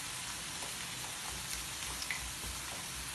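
Chopped onion frying in a pan gives a dense, steady sizzle with faint scraping from a spoon stirring it, close and even throughout, with no talk.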